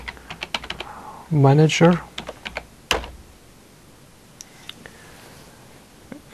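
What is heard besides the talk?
typing on a computer keyboard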